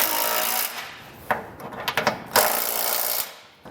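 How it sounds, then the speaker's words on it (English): Ratcheting 19mm (3/4 inch) socket snugging down hardware on a Curt trailer hitch receiver: a steady whirring mechanical run with several sharp clicks and bursts, fairly loud and close, with no talk. "then we come back with a 3/4 inch or 19mm socket and snug it all down"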